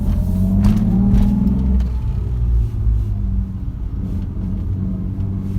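A Toyota Supra's exhaust, with its stock manifold, rumbles loudly and steadily nearby, with a rising rev early on settling back into a deep idle burble.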